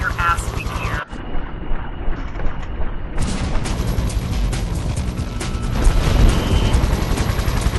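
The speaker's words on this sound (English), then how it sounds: "After all that, the big antenna needs to be blown up." A large antenna blown up in the Just Cause video game, a deep booming blast after a brief drop to near silence, followed by a sustained roaring rumble of debris and noise that swells toward the end.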